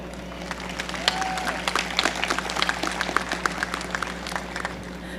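Applause at a Fisk University graduation ceremony, with individual claps standing out over a steady hum and crowd murmur, moderately loud and busy throughout.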